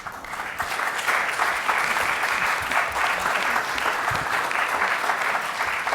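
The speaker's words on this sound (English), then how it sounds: "Let's give him a round of applause." A conference audience breaks into applause, a loud, full burst of clapping from many people that starts sharply and stays strong and even throughout, with no voices heard.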